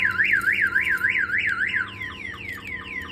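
A Viper 5706V alarm installed in a 1992 GMC Sierra 1500 Z71 wails loudly in a rapid rising-and-falling siren, then switches to a faster series of descending chirps, with no talking.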